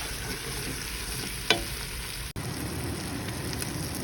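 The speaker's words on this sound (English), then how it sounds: "The whole idea is we're trying to brown them and cook them down, but you don't want them to burn" Sliced onions fry for French onion soup with an even, close sizzle, broken by a brief scrape of stirring in the pan and a short dip, with no voices.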